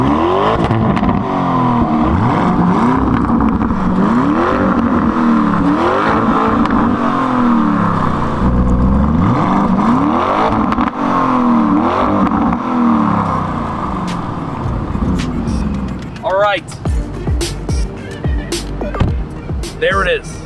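A Lamborghini Urus engine revs hard in repeated rising and falling bursts close by, loud and continuous, with voices talking near the end.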